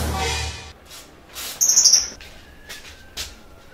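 A pet bird chirps nearby in a few short bright bursts separated by quiet gaps, with one louder trilling call in the middle and no talking.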